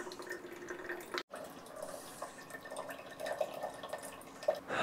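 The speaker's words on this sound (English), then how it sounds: "it's putting filtered water into the pitcher." Filtered sump well water from a DIY pump dripping and trickling into a half-gallon pitcher, close and small, with irregular splashes and a brief gap.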